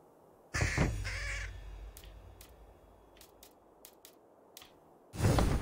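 A raven in the video game Assassin's Creed Valhalla gives a few harsh caws, loud and close, separated by quiet stretches with faint clicks, then another loud call at the end.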